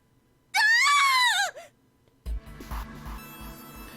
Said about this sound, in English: The scream nearly blew out Junpei's eardrums.